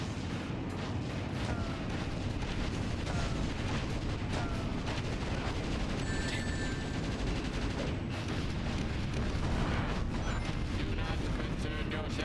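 Cannon fire in the video game Shadow the Hedgehog booms in a continuous, dense barrage with mechanical clatter layered over a heavy low rumble, loud and unbroken throughout.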